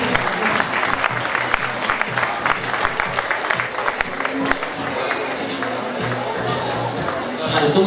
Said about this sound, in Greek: Χειροκρότημα, Χριστίνα.